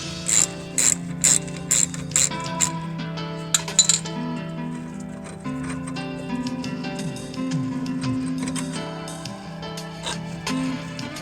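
A hand ratchet clicks rapidly and repeatedly while loosening brake caliper retaining bolts on a third-generation Camaro, with bursts of bright metallic pawl ticks, brief pauses and occasional clinks of tools.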